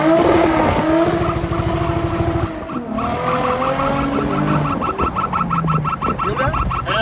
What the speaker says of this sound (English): Watch out for this wheel spin.